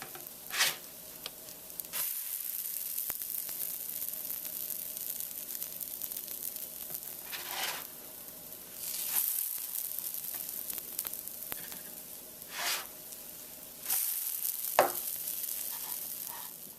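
A buttermilk pancake sizzles in a pan after being flipped, with a steady soft frying hiss broken by a few louder scraping or spatula bursts.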